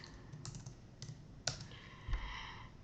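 Several soft computer keyboard key clicks, spaced irregularly and fairly faint, with a slightly louder tap near the end and no talking.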